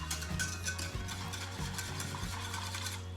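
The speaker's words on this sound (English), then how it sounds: "Now we just want to stir this till it gets a little bit thick." A spoon stirs a thickening homemade cream sauce in a pot for green bean casserole, making a soft, continuous scraping swish with faint bubbling and a low background hum.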